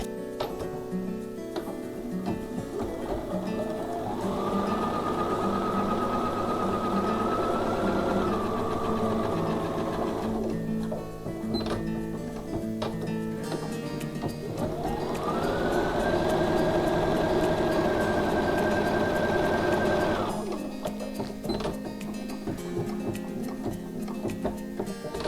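A Bernina sewing machine stitches a quarter inch seam in two long, steady runs of whirring motor and rapid needle ticking, each ramping up and then stopping, with quieter mechanical clicks between runs and no talking.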